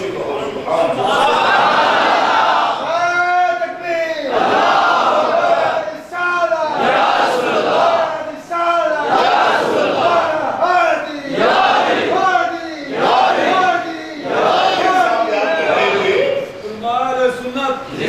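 A large crowd at a religious gathering loudly chants Subhan Allah in repeated unison bursts, roaring responses rising and falling over about eighteen seconds.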